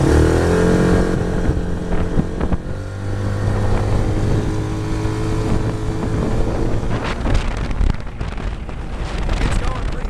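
A 170cc UTV utility vehicle with a burly, aggressive exhaust pulls away, its engine droning loud and steady close by, with a shift in pitch partway through and rattling toward the end.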